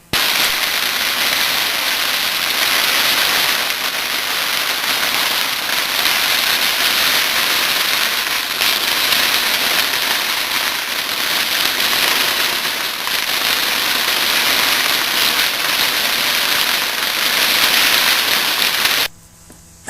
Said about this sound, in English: like a lot of other festivals, there was a shitload of firecrackers